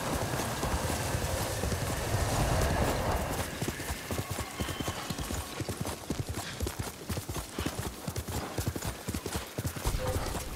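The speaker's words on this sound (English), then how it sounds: "You're a good horse, Noble." A horse's hooves clip-clop at a steady riding pace in the video game Ghost of Tsushima, loud rhythmic thuds over an ambient game backdrop after a brief smoother stretch at the start.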